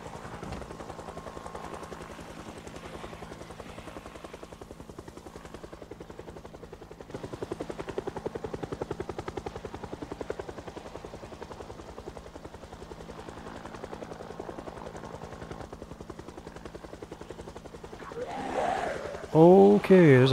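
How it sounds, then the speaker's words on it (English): A helicopter in the video game Project Zomboid beats continuously overhead with a steady rhythmic chop for the whole stretch, swelling louder near the end, where a voice briefly speaks over it. "that damn helicopter's just kinda ruining my day."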